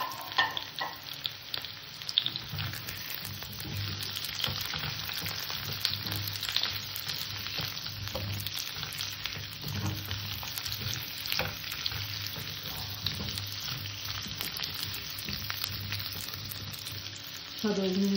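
Kohlrabi paste with lightly fried potatoes sizzles and fries in a pan for a fish curry, a steady crackling hiss that continues throughout with occasional stirring scrapes.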